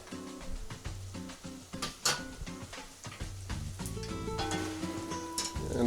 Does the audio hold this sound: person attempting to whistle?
no